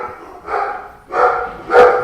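Dogs bark indoors, three loud, separate barks spaced about half a second apart, close and alone without talking.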